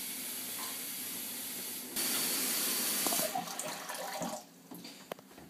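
A bathroom tap left running while someone brushes their teeth, a steady hiss of flowing water that gets louder midway, then breaks into irregular splashes and drops away near the end.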